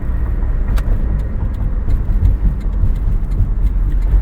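A 1991 Nissan Figaro drives along a winding road, its engine and road noise a steady, close rumble with no one speaking.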